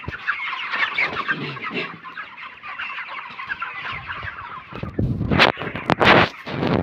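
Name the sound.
chickens clucking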